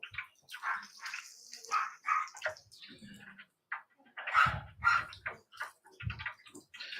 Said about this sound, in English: That actually sounded like a real bark.